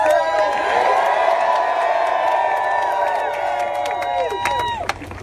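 A large crowd at an Andrew Yang campaign rally in Seattle cheers and screams loudly and steadily for about five seconds, then cuts off sharply near the end.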